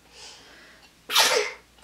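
A single loud, close sneeze bursts out after a soft preceding inhale, sharp and breathy, heard indoors during a paint-pouring craft session.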